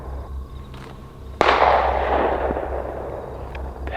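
A single sharp pistol gunshot cracks out loud and close in an Appalachian wilderness setting, then a long rumbling echo rolls away over steady background noise.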